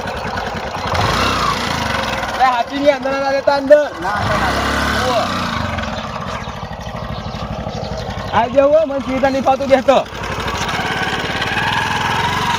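A motorcycle engine idling with a steady low putter throughout, briefly revved twice into rising whines, while people talk loudly over it.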